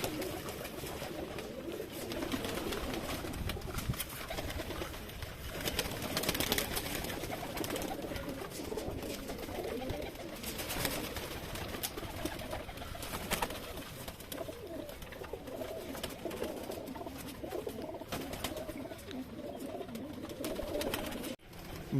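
Pigeons in a breeding loft coo in repeated soft, throaty rolls, several birds overlapping close by, with rustling and faint flutters throughout.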